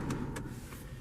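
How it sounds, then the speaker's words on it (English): Driver's side automatic power window on a 2015 Kia Optima EX closing, a steady close motor whir inside the cabin with a couple of brief higher clicks, no talking. "Bring the automatic driver's side window up and cut it off."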